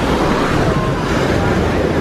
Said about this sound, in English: There's the waves breaking.